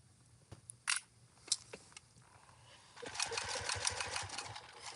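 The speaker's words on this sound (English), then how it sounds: "Definitely can tell I'm sewing over the webbing right there, that it was thicker to sew over." Sewing machine stitching binding over thick webbing on a tote bag, a few faint clicks and taps, then a quiet rapid whirring run of stitches near the end.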